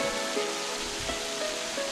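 Kurşunlu waterfall in Turkey, dropping 18 metres with dark water, gives a steady, dense rushing roar that stays close and constant throughout, with no voices.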